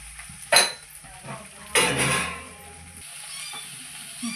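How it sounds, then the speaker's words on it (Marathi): Okra sautéing in a pan: a few sharp scraping stir strokes and a longer clattering burst over a low, steady sizzle, close by and with no voices. "आता छान आपण परतून घेऊ। जास्त हलवायचं नाही, नाहीतर मग ते भेंडी चिकट होते।"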